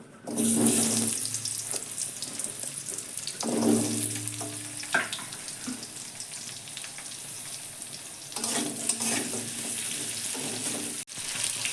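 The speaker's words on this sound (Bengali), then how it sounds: "এবার একটু ভেজে নেব" Potato, eggplant and carrot coated in salt and turmeric frying in mustard oil in a kadai, a loud continuous sizzle that flares in bursts as pieces are stirred and turned.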